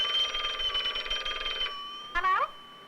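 An old telephone bell rings in a continuous trill, stops, then gives a second short burst, clear and close in a quiet room.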